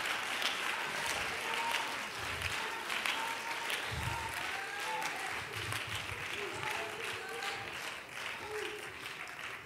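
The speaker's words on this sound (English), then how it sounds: "Give him a mighty hand clap all over the house." Church congregation at an Apostolic revival service giving a long round of applause, dense sustained clapping from a crowd filling the room for nearly ten seconds, with scattered voices and cheers mixed in.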